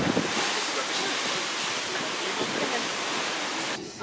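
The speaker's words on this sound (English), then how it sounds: "Just enjoy the waves." Ocean waves beneath a cruise ship deck produce a steady, dense wash of surf and wind noise, loud and continuous, before dropping slightly at the very end.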